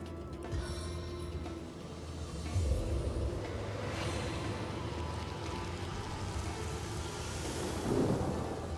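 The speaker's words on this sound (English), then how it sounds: "Jahan, make it rain again." Rain and thunder effects from Divinity: Original Sin, a steady hiss of rainfall with low rumbling thunder swelling a couple of times, continuous and without speech.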